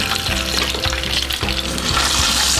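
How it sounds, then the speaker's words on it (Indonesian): Red chilies and garlic stir-frying in hot salted oil, a steady loud sizzle with a few soft clacks of the utensil moving through the pan. "Ini akan kita tumis hingga matang"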